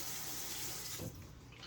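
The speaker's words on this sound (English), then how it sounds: "Now I'm gonna use a clean pieces of paper towel to turn off the faucet." A faucet runs steadily at a sink in a clinical training setting, then the flow is shut off about a second in, leaving faint room noise.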